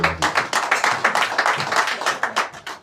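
A church congregation at a Saturday foot-washing and holy supper service claps loudly and close in a brisk, steady rhythm, with the sharp hand strikes repeating evenly throughout.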